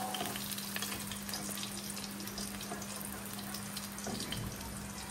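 Eggs sizzle and crackle continuously in hot oil in a home kitchen pan, a steady close frying hiss with occasional scraping or stirring.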